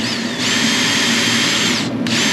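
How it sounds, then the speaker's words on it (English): A power drill spinning a wire brush whirs loudly at high speed, its motor pitch steady, briefly dropping off before spinning back up; no one speaks. "we're going to take this crappy brush here and my drill"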